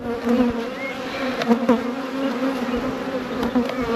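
Close, continuous droning buzz of many honeybees around an open hive, a steady hum with individual bees whirring past, loud and unbroken.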